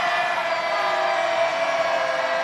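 A loud basketball crowd at a North Gwinnett high school playoff game roars continuously, a dense sustained wall of cheering and shouting filling a gym.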